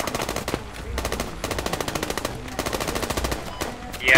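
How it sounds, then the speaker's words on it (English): Gunfire in the video game Squad comes as rapid bursts of automatic fire in quick repeated volleys, loud and continuous across the clip, with a louder burst at the end. "they're in the compound shooting"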